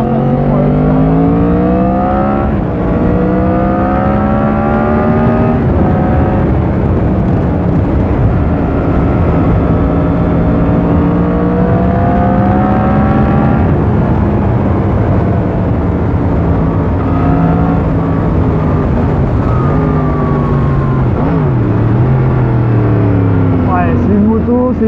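A 2021-era Yamaha MT10 roadster motorcycle engine pulls hard while riding, loud and close, its pitch climbing and dropping through repeated gear changes over constant wind rush.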